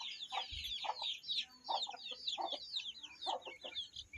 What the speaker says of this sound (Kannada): ಇದನ್ನ ನಾನು ಕೋಳಿಗೆ ಹಾಕ್ತೀನಿ. ಕೋಳಿಗೆ ಇವಾಗ ಇದನ್ನ ಹಾಕ್ತಾಯಿದ್ದೀನಿ.